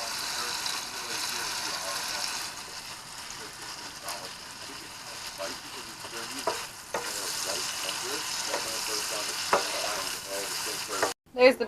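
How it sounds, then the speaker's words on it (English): Banana slices frying in a pan give a steady, close sizzle and crackle that runs unbroken for several seconds, with faint scrapes and stirring clicks on top and a brief clatter at the very end. "fried banana is my forte"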